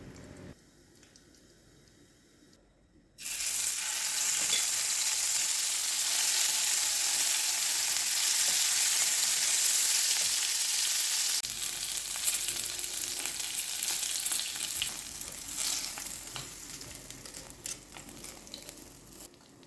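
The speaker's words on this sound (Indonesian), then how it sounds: "kemudian goreng gurame-gurame yang lainnya sampai semuanya habis tergoreng" Loud, steady sizzling of gourami fish deep-frying in hot oil, starting abruptly after a quiet moment and crackling continuously to the end.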